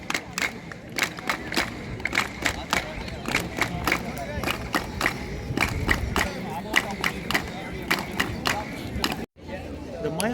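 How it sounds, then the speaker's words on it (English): Tourists clap in front of the Pyramid of Kukulkan at Chichen Itza in scattered sharp claps that come quickly one after another. The claps ring out over crowd chatter and some voices. "when you are applauding in front of this pyramid"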